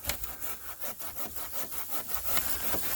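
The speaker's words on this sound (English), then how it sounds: "Got Phil here on the handsaw." A handsaw cuts through a large fallen tree on a wooded trail, with steady back-and-forth rasping strokes, close and loud, and no talking.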